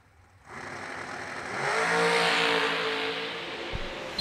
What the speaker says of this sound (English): Another heads-up drag race